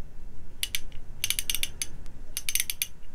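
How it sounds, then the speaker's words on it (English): A Proto half-inch ratchet clicks in quick bursts of sharp, close ratcheting ticks separated by short pauses, alone and with no talk. "this is actually a proto half inch ratchet."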